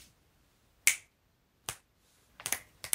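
Four sharp finger snaps, alone with no other sound: one single snap, a pause, then a quicker cluster near the end, crisp and close.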